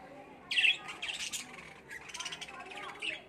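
Pet lovebirds in a covered cage give sharp, loud squawks and quick chirps in bursts close by, with a few calls spread across the stretch.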